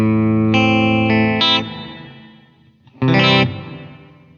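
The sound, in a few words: plateau reverb with pitch mode on Line 6 DL4 MkII pedal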